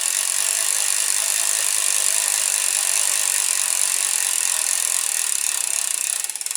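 Fast, continuous ratcheting clatter of a boat trailer winch being cranked counterclockwise to reel in its strap, steady and close for several seconds before tapering slightly at the end.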